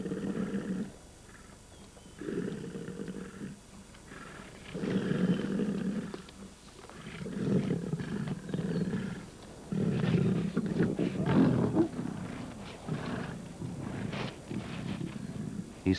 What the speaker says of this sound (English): The male in possession fights a lioness off.